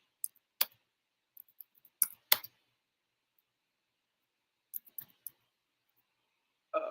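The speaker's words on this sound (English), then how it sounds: "I'm typing this in because I didn't have this part up" Keys tapped on a computer keyboard come as sparse, sharp clicks in short separated bursts, with long quiet gaps between them and a brief rustle at the end.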